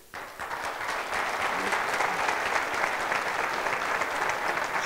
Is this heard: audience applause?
yes